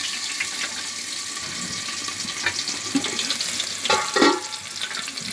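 Chopped onion dropped into hot oil in a pan while making banana fry, a steady hiss of sizzling with a few louder spattering bursts partway through, close and moderately quiet.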